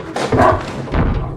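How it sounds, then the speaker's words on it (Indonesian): The kidnapper's dog in the horror film The Black Phone barks, a loud, close, gruff volley of two or three quick woofs with no voices over it. "si asu milik si penculik setan menggonggong"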